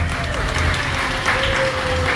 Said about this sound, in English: I'm holding for applause.